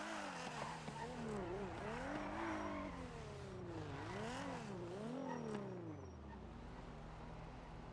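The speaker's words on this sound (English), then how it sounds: "you get the acceleration of a double clutch while drifting." In the GTA NoPixel game, a car drifts using a double clutch. Engine tones rise and fall repeatedly under faint tire noise, then settle into a steady hum.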